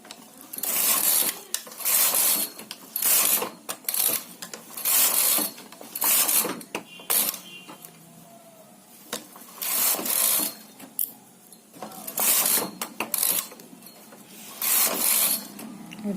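Knitting machine carriage swept back and forth across a sock, giving repeated bursts of rattling, clattering mechanical noise, each about a second long, separated by brief pauses, close and clear with no talking.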